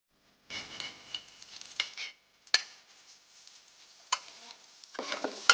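A spatula scrapes and stirs special nasi goreng fried rice in a pan, in irregular bursts of scraping and clattering with brief pauses and no talk.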